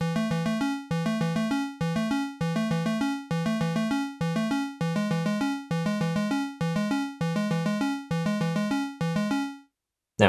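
Roland S-1 synthesizer plays a melody: repeated bright, harmonic note groups in a steady looping rhythm with regular short rests, loud and alone, ending in a brief silence.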